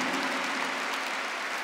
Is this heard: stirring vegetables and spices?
no